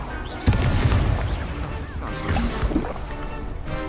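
A Confringo fire spell bursts in Hogwarts Legacy, a loud booming blast followed by a rumbling, crackling tail, then a second softer impact amid game noise.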